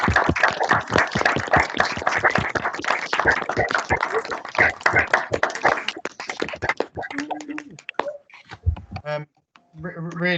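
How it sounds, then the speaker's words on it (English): An online panel audience gives a burst of dense clapping that thins out into scattered claps, with a person talking through the later part. "just a big round of applause for Jayne and Sue"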